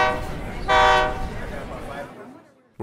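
A train in a Western-style video game sounds a loud, sustained horn blast in the middle of the clip, over a rumbling rail background that fades toward the end.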